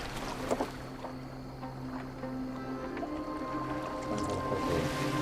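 A boat moves across water in the Assassin's Creed Valhalla video game, with a steady wash of water and wind and a low droning hum, continuous and fairly quiet, with no talk.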